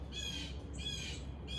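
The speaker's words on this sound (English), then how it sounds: "the crow starts cawing right as I say that" A crow gives a few harsh, fairly faint caws outdoors, two bursts spaced in quick succession over a low background rumble.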